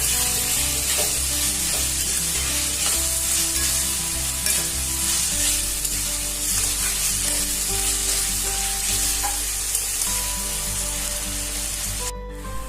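Masala spices roast and sizzle in a pan on a gas stove, giving a steady hiss and crackle with occasional scraping stirs, close and continuous without talk.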